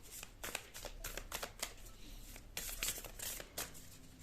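Tarot cards riffled and shuffled near the mic, a run of soft papery flutters and slaps in uneven bursts, then cards drawn and laid down, with no talking.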